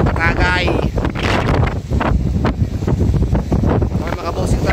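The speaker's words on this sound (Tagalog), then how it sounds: "medyo mahangin dito kami" Strong wind roars and rumbles across the microphone continuously, with voices speaking over it throughout.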